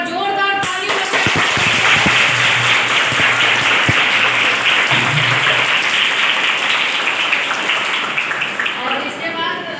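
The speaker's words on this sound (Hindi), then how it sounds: "एक बार जोरदार ताली बजाएं" A school audience gives loud, dense, sustained clapping to welcome a guest, Pathak sir, for about ten seconds, with some voices mixed into the clapping.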